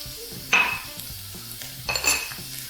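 Salted fried bologna being stirred in a frying pan, with soft sizzling under a couple of sharp clinks of utensil against the pan.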